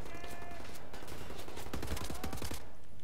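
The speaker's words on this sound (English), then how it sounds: "Right, can you stop shooting at me?" Rapid automatic gunfire in the shooter Wolfenstein: The New Order rattles in dense overlapping bursts, loud and continuous, with several quick shots clustered near the end.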